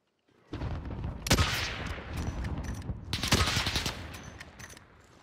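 Gunfire in the video game Call of Duty, bursts of rapid shots with two sharp, louder cracks standing out, moderately close, rising from silence and fading toward the end.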